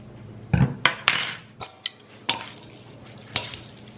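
Korean glass noodles being tossed with soy sauce, sugar and sesame oil in a bowl at home, with scattered clinks and scrapes of utensils against the dish and soft wet stirring between them, close and without talk.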